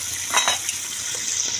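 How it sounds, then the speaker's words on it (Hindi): Chicken frying in ghee makes a steady bright sizzle, with a brief spatula scrape and stir near the start, close and even throughout. "चिकन जो है घी में फ्राई कर लें।"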